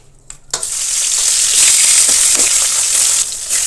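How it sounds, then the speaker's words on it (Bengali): A large carp fish head drops into hot oil after a short quiet moment, and a loud, close sizzle bursts up. It holds steady with faint stirring underneath, then eases slightly near the end. "এবার আমি মাছের মাথাটা ভেজে নিয়ে নেব।"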